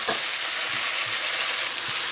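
Dumplings are stirred into sautéed onions in a hot pot for Trinidad curry crab, giving a loud, continuous close frying hiss with faint scraping from the stirring. No voices are heard.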